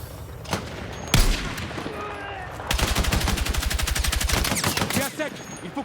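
Automatic weapon fire in the video game Battlefield 6: a few separate loud shots, then a long fast rhythmic burst of gunfire close by, with someone speaking briefly near the end.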